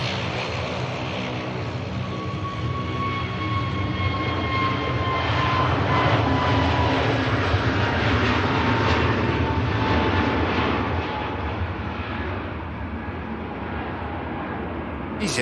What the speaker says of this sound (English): the EasyJet is on the takeoff roll now